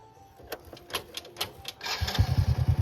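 A motorbike engine starts up and settles into a rapid, rhythmic putter, close and fairly loud, after a few clicks and knocks.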